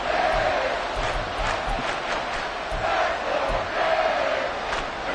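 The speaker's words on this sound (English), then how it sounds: "A big play here as the crowd noise rises." Football stadium crowd roaring during a big play, a dense, loud swell of many voices with shouts and rhythmic thumps underneath, sustained and surging for the whole stretch.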